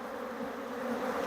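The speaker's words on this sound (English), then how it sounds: "These bees are very active." A dense swarm of active honeybees buzzing around an apiary hive in the evening, a steady, moderately faint hum with no voices.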